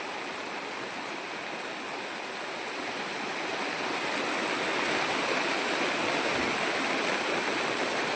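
Water rushes steadily like a strong stream, a dense continuous roar that grows slightly louder over the stretch.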